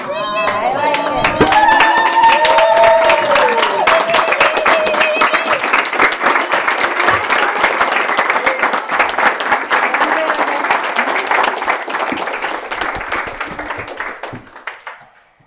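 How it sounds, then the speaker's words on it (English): A large audience at a storytelling event rises to its feet, clapping and applauding loudly and steadily with some cheering voices, the sound gradually fading out at the end. "I want all of us right now at this moment to rise up on our feet and give a big applause to Sarah."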